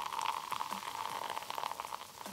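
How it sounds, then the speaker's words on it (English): Dense bubbling and churning of water agitated by a small whirring frother, a steady frothy texture with a faint motor tone underneath. "water boiling with a cappuccino frother"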